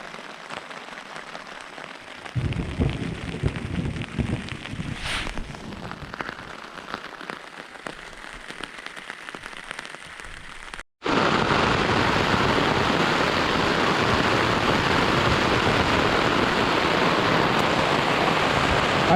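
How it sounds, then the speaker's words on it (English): Rain drums on a camping tarp overhead during a thunderstorm, a lighter patter at first, then after a brief gap a heavy, steady downpour roars close by. "the rain's in full swing now,"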